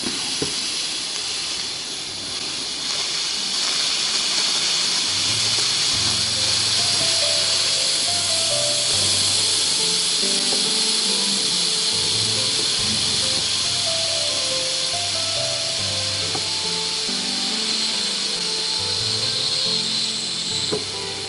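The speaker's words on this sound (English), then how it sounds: "carefully release some steam out of the pot, or some pressure" Steam hissing hard from the pressure release valve of a Crock-Pot cooking stew, a loud, continuous rush that holds steady under faint low clatter.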